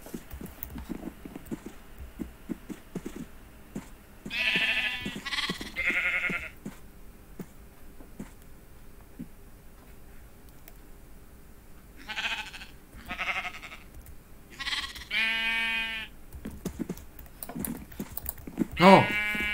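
Sheep in the Minecraft video game bleat in several short bursts among quiet in-game clatter and footsteps, spread through the clip with a louder cluster near the middle and end.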